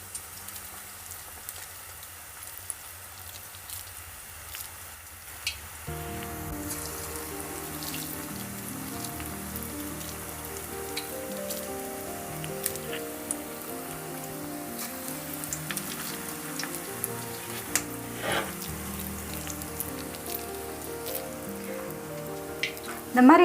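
Drumstick leaf bonda batter frying in hot oil, a steady crackling sizzle that begins abruptly a few seconds in and continues alone at moderate level.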